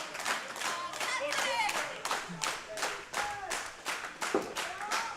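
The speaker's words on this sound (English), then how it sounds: "the crowd is on their feet, rallying behind him" A standing crowd at the 2021 World Classic Powerlifting Championships, men's open 93 kg, claps and cheers steadily for a Swedish lifter attempting 312.5 kg, with dense rhythmic applause and shouts throughout.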